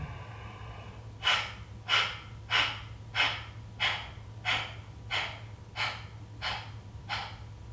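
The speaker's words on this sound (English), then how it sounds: "So sometimes it's called bellows breath." Forceful bellows breathing during a yoga practice: nine sharp, rhythmic exhalations about two-thirds of a second apart, close and clear over a low steady hum.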